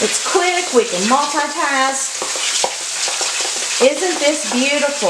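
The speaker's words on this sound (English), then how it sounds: "You can hear the meat frying in the background." Steady sizzle of meat frying in a pan runs underneath a person talking, with some stirring clatter mixed in.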